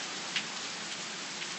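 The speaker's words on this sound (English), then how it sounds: "even the rain is kind of settling a little" Steady rain falls outdoors in Huntsville, Alabama, a dense, even hiss of drops on surfaces with a few faint louder patters, and no voices.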